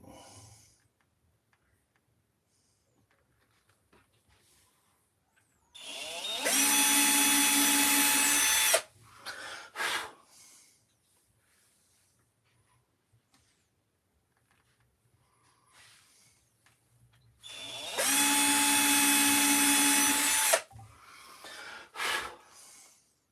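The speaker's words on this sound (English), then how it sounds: "So I think I've drilled that one in the wrong place." A power drill bores pilot holes into wood during a carving project, two loud, sustained bursts of whining motor separated by quiet handling noises and breaths, close by.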